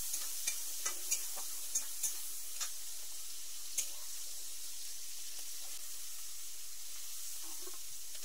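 Shrimp half-frying in hot oil for an echor chingri curry: a steady soft sizzle with a string of light clicks and stirring taps early on, quiet and close, without speech.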